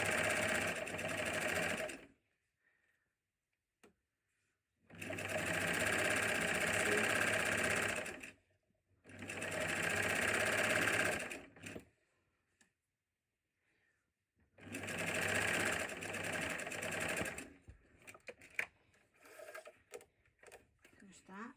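A sewing machine stitches a hot water bottle cover in four loud bursts of a few seconds each, separated by pauses, close up, with some handling noise near the end.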